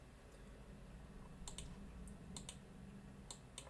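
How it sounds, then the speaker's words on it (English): Faint computer mouse and keyboard clicks come in small clusters of sharp taps over a quiet hum, close by, as someone edits on a computer during a home ukulele lesson. "just doing a little bit of clicking here"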